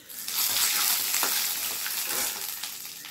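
Peanuts and curry leaves fry in hot oil for gooseberry rice, giving a bright, crackling sizzle up close. It swells quickly, holds for a few seconds with small pops, then eases slightly.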